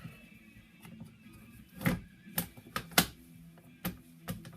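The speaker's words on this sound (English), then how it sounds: "let's get the bolt back in here" Bolt being slid back into a Spanish Mauser M1916 7x57 rifle, heard as a series of close, sharp metallic clicks and clacks spaced irregularly over a quiet background.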